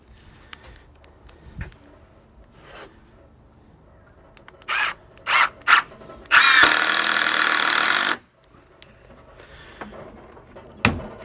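A power drill drives screws into a wood deck while a barbecue is being installed, with several short, loud whirring bursts followed by one longer run of nearly two seconds, close by, among scattered clicks and knocks.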